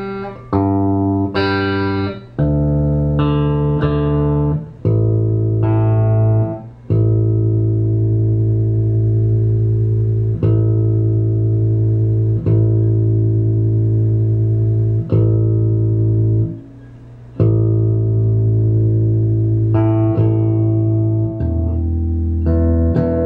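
A Carlo Robelli 8-string bass is played through effects while being tuned, with long sustained notes held one after another, each ringing fully before the next string sounds, loud and with no talk.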